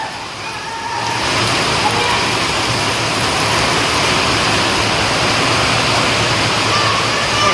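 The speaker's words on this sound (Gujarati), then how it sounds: "ફૂલ વરસાદ ચાલુ થઈ ગયો" A downpour during a village windstorm makes a loud, constant wash of rain that thickens after the first second and stays even throughout, with possible faint voices underneath.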